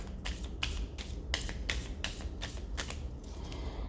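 A mini deck of playing cards being riffle shuffled close by, quiet rapid bursts of flicking cards in a loose rhythm over a low background hum.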